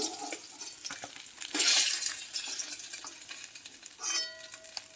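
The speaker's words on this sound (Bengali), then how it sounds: "ভাজা হয়ে গেল এক এক করে তুলে নিচ্ছি" Koi fish fry in mustard oil in a pan, a steady bright sizzle with scraping stir strokes and a louder flare as pieces are turned or lifted out one by one, close and without talk.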